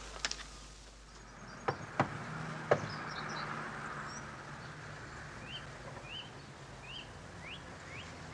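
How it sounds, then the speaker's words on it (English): Knocks on a house door in a 1965 television play about election canvassing: a few sharp, separate raps early on, followed by a quiet stretch with faint birdsong outside. "knock again, Jack."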